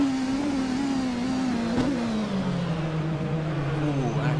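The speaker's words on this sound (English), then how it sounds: "As he's on the throttle, hitting 6th gear. No lift at all" An LMP2 race car in a racing video game at full throttle in sixth gear, its engine a steady, loud drone that holds one pitch and then drops slightly lower, with no lift off the throttle.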